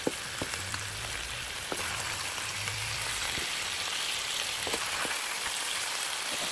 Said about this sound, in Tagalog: Patayuin natin siya sa sarili niyang oil para mas yummy.